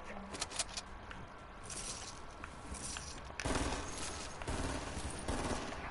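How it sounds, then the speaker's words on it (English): Gunfire from players in a Fortnite match, a fast rattle of shots with louder bursts partway through, steady and fairly close, with no talking over it. "why is they already shooting? Who shoots that early in a match?"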